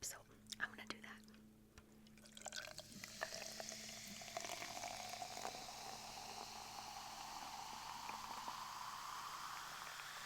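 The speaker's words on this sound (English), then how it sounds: "I love the bubble sounds it makes when you pour it into a cup" Waterloo Peach sparkling water pours into a cup and fizzes, the hiss of bubbles swelling and then holding at a soft, close, steady level, with a few small clicks at the start.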